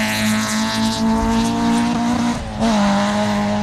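A rally car on a sprint stage drives hard past, its engine holding a strong steady note, dipping briefly as it lifts off, then pulling hard again, loud and close with no talk.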